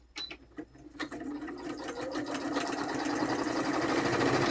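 Sewing machine running a straight stitch across a collaged book page, starting with a few short bursts of clicks and then settling into a steady, close, continuous whirring hum that grows slightly louder.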